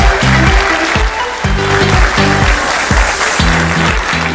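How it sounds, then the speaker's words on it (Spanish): Sustained crowd applause at a 25th anniversary party, dense and loud throughout, with rhythmic music pulsing underneath. "Un grande aplauso, señor Carlos Sánchez."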